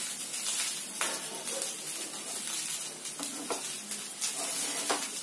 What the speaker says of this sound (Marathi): आता मी 2-3 मिनिटं याला परतवून घेणार आहे